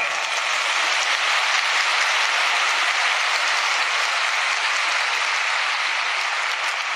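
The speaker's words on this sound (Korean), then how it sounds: "박수 한번 하세요." A large crowd at a religious rally in Incheon's Songdo Convensia breaks into applause, a thick, continuous wash of clapping that stays loud and even for seven seconds, like heavy rain.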